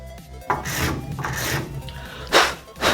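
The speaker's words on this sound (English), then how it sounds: "we're gonna use our rat tail file to cut a notch into the PVC" A rat tail file rasps a notch into the end of a PVC pipe for a homemade bow, giving close, rough scraping strokes in an uneven rhythm with a stronger stroke near the end.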